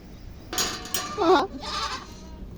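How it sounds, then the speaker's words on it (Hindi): Several goats bleat in short wavering calls on a goat farm, fairly close, with a brief pause between bursts and no talking. "बकरियां जी आवाज़ कर रही हैं।"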